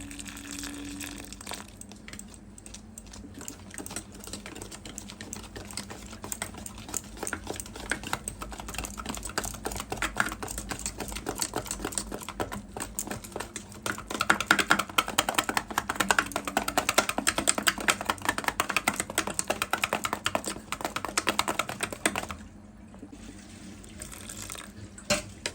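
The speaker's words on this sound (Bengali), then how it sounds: "আরও সামান্য জল দিলাম, ভালোভাবে ফেটিয়ে নেব।" Palak pakora batter with added water being whisked steadily in a bowl, a rapid continuous wet clicking and slapping that runs throughout and briefly pauses near the end.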